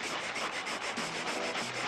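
A hand saw cutting with quick back-and-forth rasping strokes, close and steady, repeating roughly every quarter second with no talk over it.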